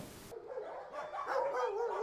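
Dogs barking at a small-animal shelter in Jelenia Góra, several yips and barks overlapping in a lively, continuous chorus close by, with no talk.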